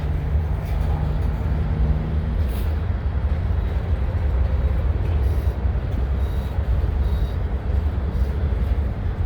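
Freight train with tanker cars, one carrying stabilized butadiene, rolling past a grade crossing at Canal Ridge Road; a steady, loud low rumble and clatter fills the whole stretch, close by and continuous.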